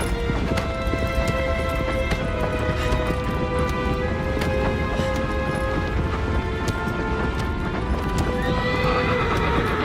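Horse in Shadow of the Colossus, hooves clip-clopping steadily at a gallop and a whinny rising near the end, all over a dense, loud game soundscape with a steady drone and tonal music throughout.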